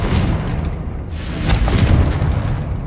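A Confringo fire spell in the Hogwarts Legacy video game goes off as a loud, rumbling boom with a deep thud, then fiery crackle and heavy low-end noise rolling on behind it.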